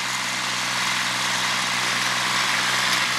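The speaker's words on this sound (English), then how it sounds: "It's only a 14 horse tractor." A small 14-horsepower Kubota tractor engine runs close and loud with a steady, unbroken mechanical drone while it pulls a heavy load.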